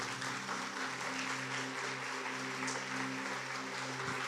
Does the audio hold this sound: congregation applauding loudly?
yes